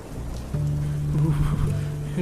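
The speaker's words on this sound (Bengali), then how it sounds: "আজকের ঝড়টা খুব খারাপ আকার নিয়েছে রে" Steady, dense rain of a cartoon Kalbaishakhi storm at night patters close by, joined by a low continuous hum, with no clear thunder rolling through.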